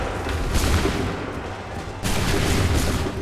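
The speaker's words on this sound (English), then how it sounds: "Open fire." Musket volley gunfire in Assassin's Creed III, with two loud booming volleys, one near the half-second mark and another around two seconds, each followed by a rumbling, noisy tail.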